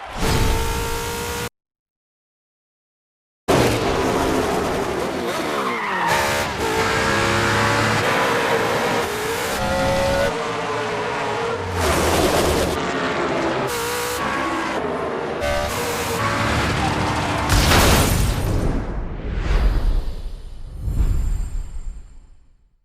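Racing cars in The Crew Motorfest during a NASCAR event, engines roaring loudly and continuously with repeated revving, gear shifts and rising whooshes as cars pass close, broken by a brief silent gap near the start.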